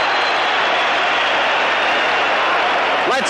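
A boxing crowd at a 1976 heavyweight fight roars steadily as a round ends, a dense, loud wall of cheering and applause that never lets up.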